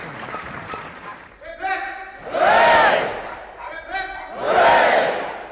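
A crowd of royal well-wishers cheers the new king in two swelling roars of shouts and voices, with close talk and some applause mixed in between the waves of noise.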